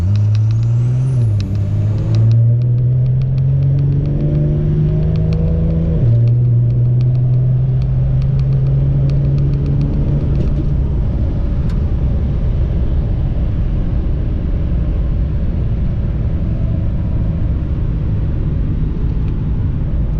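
A 1000 HP Cummins diesel truck accelerates hard from about 45 mph on the street, a loud, rising engine roar that climbs through gear changes and builds into a dense, sustained rumble.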